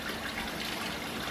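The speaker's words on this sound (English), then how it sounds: "over to the water feature." A garden water feature in a tropical-style back garden in Adelaide trickles and splashes steadily, a soft continuous wash of running water with no voices.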